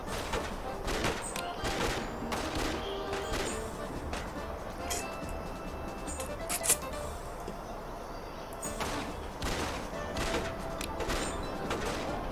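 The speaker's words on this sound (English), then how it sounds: "Go on, Billy! Shoot him down!" Gunfire from a shootout with bandits aboard a train in the video game Bounty Train: scattered sharp shots and short bursts spread across the scene, over a steady rumbling background with some speech mixed in.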